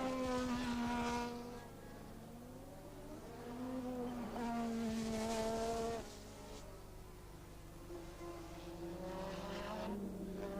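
Formula 1 cars from the 1984 season racing, high whining engines rising and falling in pitch as they pass, faint and distant with a low steady drone underneath.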